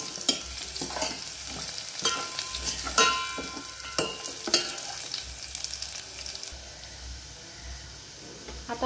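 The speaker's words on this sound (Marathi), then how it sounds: "त्याच्यामध्ये जिरा मोहरी टाकायची आहे फोडणीला" Cumin and mustard seeds sizzle and crackle in hot oil while being stirred for a dal tempering, with steady frying hiss, scattered seed pops and a few scraping stirs, close and alone with no talking.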